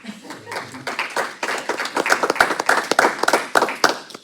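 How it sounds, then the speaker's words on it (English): An audience at a school board meeting breaks into applause, close and lively, with sharp individual claps building from a scattered start, while voices speak over it. "I feel like you get an applause."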